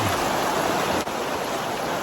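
Steady broadband rush of river water flowing at the Teroro River in Mangatarem, Pangasinan, continuous and fairly loud with no voices over it.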